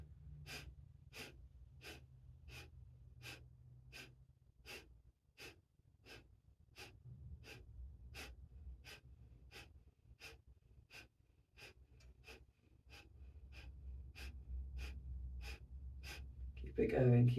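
Strong rhythmic yoga breathing, sharp forceful exhales repeated at a steady quick pace, about two per second, for over fifteen seconds, close and clear, with a low hum underneath.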